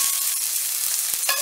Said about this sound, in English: I'm just gonna go ahead and finish searing off the shrimp